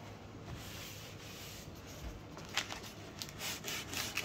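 Sandpaper is rubbed across a solid oak edge in a faint, steady rasping scrub that keeps on throughout, with a few louder strokes near the end.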